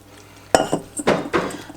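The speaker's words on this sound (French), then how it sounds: "on va mélanger légèrement avec la fourchette ou le fouet" A fork or whisk scrapes and clinks against a dish while stirring a crustless leek and chicken quiche mixture, producing several close, uneven metallic taps and scrapes.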